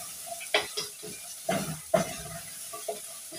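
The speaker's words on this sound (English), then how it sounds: "Let me stir." A spoon stirring meat as it fries in a pot, giving scattered scraping and clinking strokes over a soft, steady sizzle, close by with no talk.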